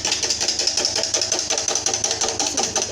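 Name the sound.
electric mixer whipping eggs for cake batter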